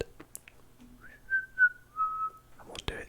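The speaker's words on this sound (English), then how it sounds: "Whistle." A person whistles a short tune up close: a rising slide, then a few sustained clear notes, with soft mouth noises before and after.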